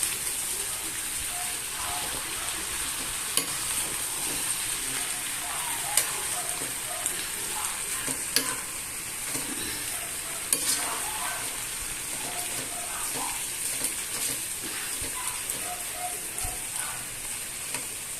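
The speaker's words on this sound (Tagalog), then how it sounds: "Ngayon ay hahaluin naman natin." Shrimp and other seafood cook with oyster sauce in a pan, a soft continuous sizzle broken by light, occasional stirring scrapes and taps throughout.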